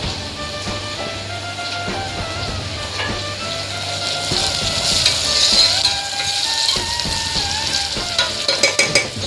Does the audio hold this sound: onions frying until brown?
yes